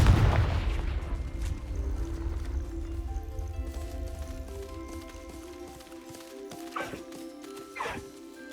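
Confringo explosive fire spell in the Hogwarts Legacy video game, a loud booming blast at the start that decays into sustained rumbling game ambience, with a couple of sharper impacts later.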